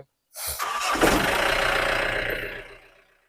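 A Mahindra Bolero pickup's diesel engine cranks briefly and catches, then roars up loudly and settles before fading, heard up close with no voices.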